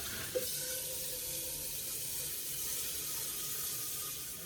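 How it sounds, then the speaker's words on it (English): Tap water runs steadily into a cooking pot at a kitchen sink, a continuous even hiss of filling water with no talking. "Got our pot, and we'll fill her up."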